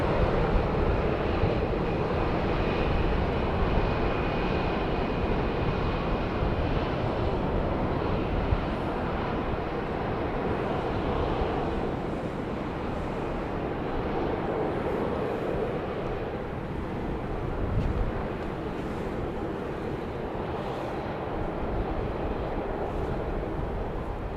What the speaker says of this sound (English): a 737-700. Should be penetrating the left side of your screen here very shortly. The New Orleans flight is.